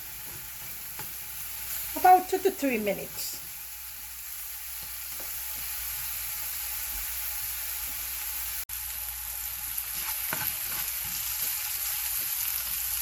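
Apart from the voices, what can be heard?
fish frying in a pan for Caribbean stewed fish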